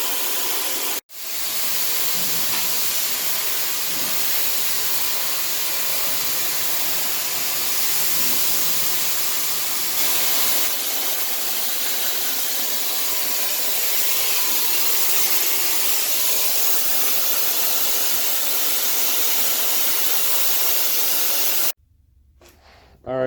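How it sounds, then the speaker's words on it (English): A spray gun hisses steadily and loudly while a car is painted, a continuous broadband rush lasting about twenty seconds after a brief pause, then cutting off near the end. "let's go ahead and start spraying the car now."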